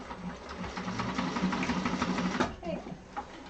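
A sewing machine running steadily as it stitches a handbag lining, a continuous close mechanical whir that stops near the end, followed by a brief spoken word and small handling sounds.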